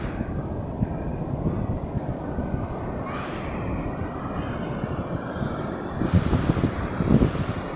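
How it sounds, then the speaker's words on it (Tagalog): Heavy surf crashes continuously with strong wind buffeting the microphone, a dense steady roar with surges of waves breaking nearby. "Ang lalaki kasi ng alon, di tayo makaligo."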